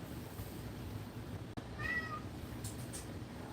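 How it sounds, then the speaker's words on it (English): A frustrated, angry house cat gives one short, clear meow, fairly close and alone over a steady background hiss. "that is my kitty, who is very frustrated and angry with me"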